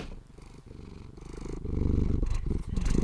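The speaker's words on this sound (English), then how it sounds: "Purring out into the world." A large male cat purrs right against the microphone, a close, rumbling, steady purr that grows louder and pulses with each breath.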